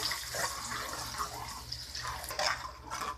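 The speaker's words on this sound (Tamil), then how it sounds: "வெங்காயம் நல்லா வதங்கிட்டு இருக்கு" Sliced onions sauté in hot ghee with cinnamon and cloves for ghee rice, giving a close, steady sizzle scattered with crackling pops and small bursts, with no speech over it.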